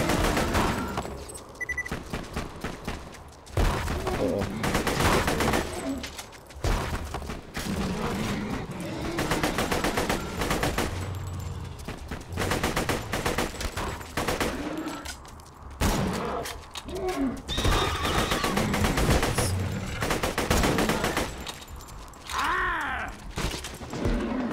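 A video game shootout plays out as repeated bursts and single shots of gunfire with mechanical clicks between them, all at a fairly even level, with a faint voice now and then.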